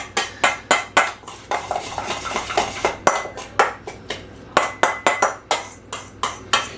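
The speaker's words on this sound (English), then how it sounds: "Start mixing. Get in there, mix it up nice, good." Beef tartare mixed in a bowl: a rapid run of sharp utensil clicks and scrapes against the bowl, near and steady, with a brief denser churning stretch in the middle and no talk.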